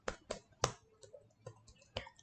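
Computer keyboard keys pressed for a Ctrl+E shortcut in Excel, heard as about seven sharp, close clicks at an irregular pace in a quiet room.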